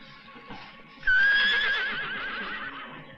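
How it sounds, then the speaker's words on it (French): A horse gives a loud, drawn-out whinny with a wavering, quavering tone that fades slowly. It is heard on its own, preceded by faint background noise. "C'était un hennissement, je vous dis."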